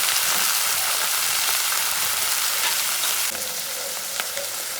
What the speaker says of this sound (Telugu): ఇప్పుడు దీంట్లోకి మనము ఈ ఉడకబెట్టుకున్న బచ్చల కూర అయితే వేసేసుకోవాలి